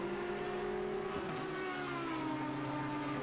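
A Lexus GT3 race car engine at Imola in a racing video game holds a loud, steady high-revving drone whose pitch slides gradually lower. It plays alone with no talk.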